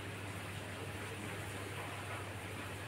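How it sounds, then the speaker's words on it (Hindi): Heavy rain pours steadily in a dense, unbroken hiss with a low hum underneath, and no voices break through. "वैसे बारिश का आवाज़ सुनाई दे रहा है आपको? बहुत तेज़ बारिश आ रहा है।"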